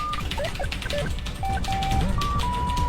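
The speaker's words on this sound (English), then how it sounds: "I'm typing for my life!" Rapid, uneven clicking of keys being struck, with short electronic beeps and tones over it and talking in the background.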